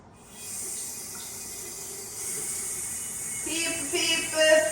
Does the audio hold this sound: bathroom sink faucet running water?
yes